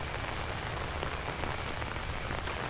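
Steady heavy rain in the horror video game Outlast, a dense continuous hiss of drops on surfaces with no pauses and no voices.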